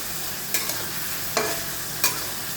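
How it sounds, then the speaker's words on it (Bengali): Vegetables with salt are stirred in a pan over a high gas flame, giving three distinct scraping strokes over a steady low sizzle, with no talking. "সবজিগুলো ভাজার জন্য নাড়িয়ে দিচ্ছি"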